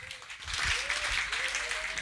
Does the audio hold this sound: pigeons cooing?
no